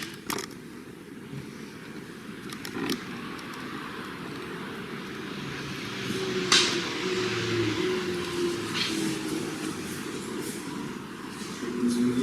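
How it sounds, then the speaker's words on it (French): Traffic near the Clinique du Triangle, a low continuous road rumble with a passing vehicle building to a louder swell midway, heard at a distance with no voices. "Moi, je suis sûr que c'est les voitures, c'est pas possible."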